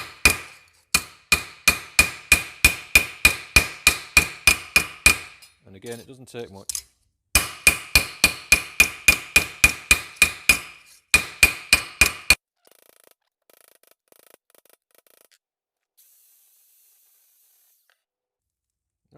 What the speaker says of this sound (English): So hammer from the front on the weld seam.